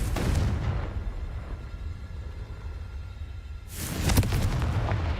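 A Confringo blasting curse from Hogwarts Legacy erupts in a loud, close explosion burst at the start, then a rumbling low decay, followed by a second bright crackling blast near the end.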